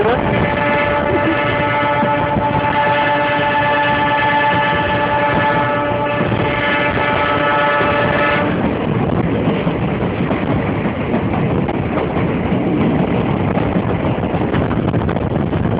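A passenger train on the Chunar–Barwadih–Gomo line rolls slowly along its track, a steady, loud mechanical drone with a sustained tonal hum in the first half, then continuous rumbling clatter.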